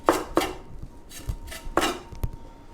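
Knife chopping flat leaf parsley leaves on a cutting board: a handful of crisp, close strikes in an uneven rhythm, fairly loud, with no talk.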